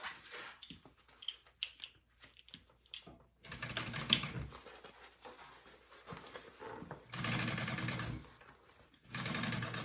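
A sewing machine top stitches a fabric backpack in three close, steady bursts, separated by quieter handling and rustling of the material.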